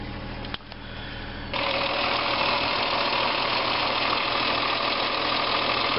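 After a cold start, a 1977 Triumph 2000TC engine idles with a steady, slightly knocking mechanical chatter, growing louder after a brief shift early on and continuing close and even.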